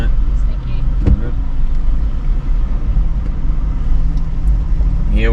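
A car rolls slowly into the Interislander ferry on the Wellington to Picton crossing, a steady low vehicle rumble with a couple of brief clunks.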